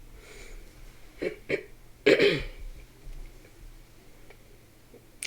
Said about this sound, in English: I'm sorry to keep clearing my throat.